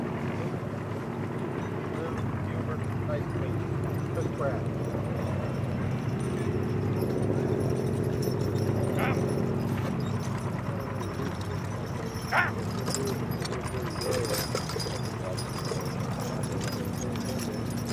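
A team of horses walks while plowing a field, with soft clip-clop hoofbeats under a steady outdoor rumble and faint voices.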